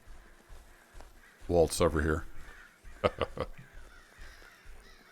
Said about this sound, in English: Those crows need to go